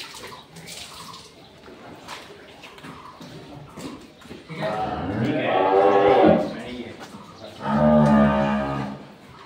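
A white dairy cow on a farm gives two loud, drawn-out moos close by, the second after a short pause, over quieter background noise with splashing water.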